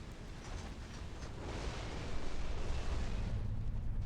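A battleship is destroyed in a naval strategy video game, giving a low, rumbling explosion that swells and sustains as a dense roar for several seconds at moderate volume, with no talking.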